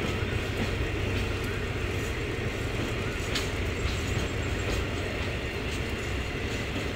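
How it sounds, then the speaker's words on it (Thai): Diesel freight train 722, Hat Yai Junction to Bang Sue Junction, hauled by diesel locomotive 4542 and carrying cement, leaves Na San station with a loud, steady, dense rumble and faint wheel clatter throughout. "รถสินค้าปูนซีเมนต์ที่722ชุมทางหาดใหญ่ปลายทางชุมทางบางซื่อนะครับ"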